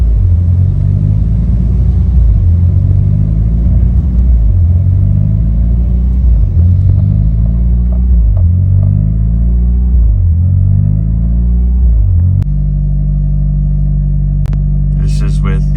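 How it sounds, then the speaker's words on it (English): Car engine idling on a test drive with a new OEM sensor fitted, a loud steady rumble with a rhythmic surging pulse roughly every two seconds, then evening out near the end with a few faint clicks. "take the car for another test drive and see if there's any difference in the way that the car idles"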